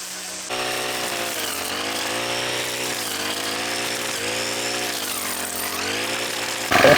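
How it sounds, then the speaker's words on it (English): A gas-powered brush cutter's two-stroke engine drones loud and close while clearing brush at a ruin, its pitch rising and falling steadily under load for several seconds, with no talk. "So we could also use a gas-powered brush cutter."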